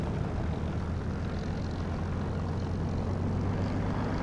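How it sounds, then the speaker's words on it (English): A propeller aircraft engine in the DCS flight simulator game, a loud steady drone with a low throbbing hum that holds even and unbroken from start to finish. "just listen to the sound of this engine, especially when I get airborne and I'm fairly low and you hear the prop wash"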